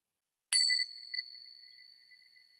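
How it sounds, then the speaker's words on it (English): A small meditation bell is struck once after a moment of silence, a clear bright ding that rings on and slowly fades over the next two seconds, alone in a quiet room. "So I'll ring my bells."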